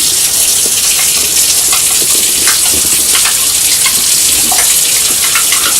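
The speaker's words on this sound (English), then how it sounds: "Just a little bit more water to make gravy." Water pours into a pan to make gravy in a kitchen, a loud, steady close-up gush and splash that runs without a break and with no talking.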